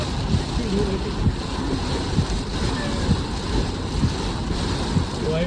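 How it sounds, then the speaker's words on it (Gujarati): Heavy monsoon rain pours down in Surat around a broken-down car, a steady, dense, close roar of drumming water with gusty wind across the whole stretch. "પહેલી વાર આવો વરસાદ પડ્યો એવું તો ડોલ ભરી નાખે એવું થાય છે"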